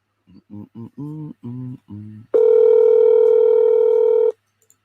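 A phone call being placed: a quick run of six short dialing beeps, then a long steady ringing tone that cuts off, clear and close with no voices.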